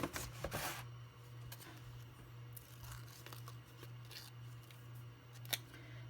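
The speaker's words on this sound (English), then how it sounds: "I need to cut a little bit more off" Scissors cut paper for a handmade shaker tag, a few crisp close snips and rustling paper over a faint steady hum.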